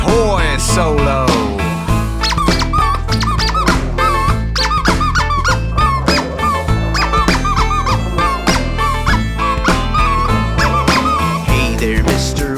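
A squeaky toy played as a melodic solo within a loud live band performance, its bright pitched squeaks weaving over dense music throughout.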